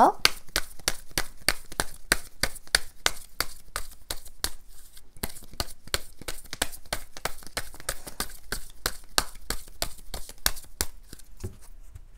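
Tarot cards shuffled steadily for a long stretch, a fast dense run of crisp papery snaps and riffles, close and fairly loud with no pauses.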